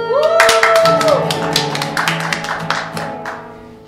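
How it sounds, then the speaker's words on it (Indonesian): Clapping during a children's Sunday school church service in Java, a loud, close run of hand claps and taps mixed with singing or voices, lively and fairly rhythmic. "Mana tepuk tangannya untuk Tuhan Yesus?"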